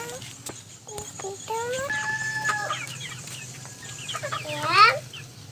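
Several chickens in a backyard coop clucking and squawking close by, with rising calls and a sharper burst near the end, over faint background noise.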